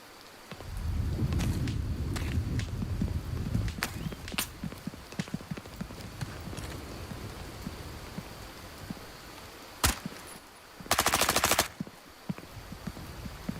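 Rapid bursts of automatic gunfire in the video game Incursion Red River crackle through the first half, with scattered single shots later, then a sharp crack and a loud dense burst near the end.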